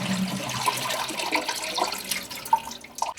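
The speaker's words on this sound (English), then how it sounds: "that noise is the sound of air travelling up the pipe to stop the flush" A flushing toilet gurgles as air travels up the pipe, giving irregular watery bubbling and trickling sounds with a few sharper glugs near the end, fairly close and with no talking.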